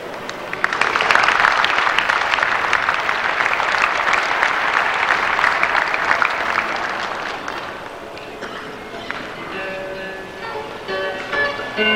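Audience applause at a state FFA leadership conference as an honorary degree is bestowed, a loud, sustained clapping from a large crowd that swells early and then gradually thins and tapers toward the end.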